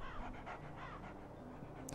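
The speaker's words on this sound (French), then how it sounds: "Quoi, ce n'était qu'un chien" A dog pants rapidly and rhythmically in the video game Kingdom Hearts 2, a steady run of quick breathy huffs against a low game background hum.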